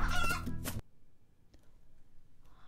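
A chicken clucks in The Good Dinosaur video game, loud and busy at first with game sounds, then dropping to a faint quiet stretch with a couple of small ticks.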